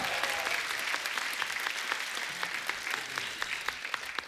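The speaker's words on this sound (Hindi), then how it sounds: "जोरदार तालियां" Studio audience on an Indian television comedy talk show breaks into loud, sustained applause, a dense wash of clapping lasting several seconds with no voices over it.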